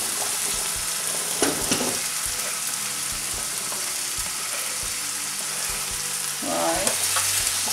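Peeled, cubed potatoes go into a hot pan of pickle masala, giving a strong continuous sizzle with scattered clattering stirs and a louder burst near the end.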